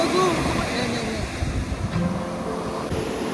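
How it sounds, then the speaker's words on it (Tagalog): Strong waves break and surge continuously on the shore in Zambales with a loud, roaring wash, mixed with blustery wind buffeting the microphone and faint voices. "ang lakas na ng alon"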